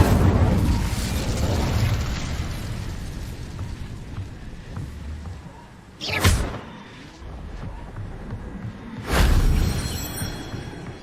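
Incendio fire spells going off in the video game Hogwarts Legacy, two sharp whooshing bursts a few seconds apart over a rumbling battle backdrop, each flaring loudly before fading.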